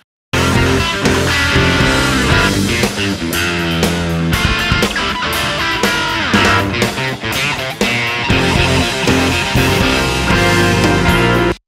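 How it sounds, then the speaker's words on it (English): Distorted electric rhythm guitar parts run through a Line 6 Helix preset, with dense, loud, chugging chords in a busy studio mix and no talk. "These distorted rhythm guitar parts keep going with this little part."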